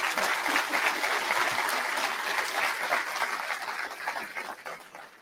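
A dense, sustained round of applause from a conference audience sending off an honorary panel, many hands clapping together in a thick continuous wash that tapers slightly toward the end.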